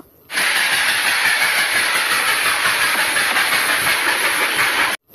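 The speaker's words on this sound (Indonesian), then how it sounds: "di sini juga ada kereta api uap" Steady loud rushing hiss of a toy steam train, constant and close, starting abruptly and cutting off after about five seconds, with no voices.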